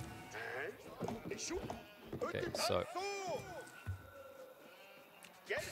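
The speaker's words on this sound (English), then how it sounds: "they clubbed a fresh sheep as well" Sheep bleating in a multiplayer video game, several wavering bleats in quick succession with a clattering hoof-like patter, mixed with game effects and a brief spoken remark.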